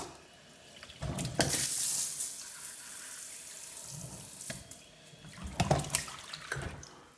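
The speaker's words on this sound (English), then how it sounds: "The kitchen is now all in, all plumbed in nicely, water all on" Water running from a newly plumbed kitchen tap in a house under renovation, coming in two quiet bursts of gushing flow with a low background hiss between them.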